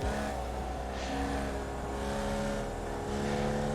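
A Formula Vee race car in iRacing runs a flying lap at Laguna Seca, its engine droning steadily at high revs with small pitch shifts as it holds speed, fairly quiet and uninterrupted by talk.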